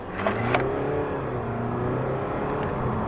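A Honda Civic 1.6 i-DTEC diesel with a nine-speed automatic gearbox accelerates at full throttle, its steady engine drone loud and close inside the cabin with no talking.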